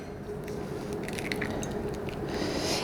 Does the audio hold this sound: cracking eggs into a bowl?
yes